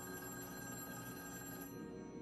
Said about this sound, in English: I sighed slowly and walked towards the still ringing phone.